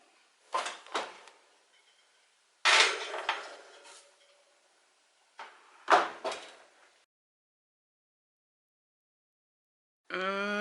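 Oven door handled as a tray of sunbutter buckwheat cookies goes in to bake, giving three separate clunks and rattles of metal and hinge, each fading out, followed by quiet and then a short clear tone at the end.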